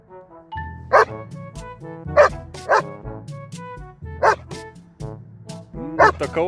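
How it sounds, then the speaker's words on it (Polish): A dog barks repeatedly at an unfamiliar large metal farm machine in a village, loud close yaps and woofs coming in irregular bursts with short whimpers between them. "Szczekanie."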